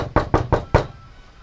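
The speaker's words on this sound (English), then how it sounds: "knocks on your door." Four firm knocks on a door in quick, even succession, loud and close, followed by a brief quiet tail.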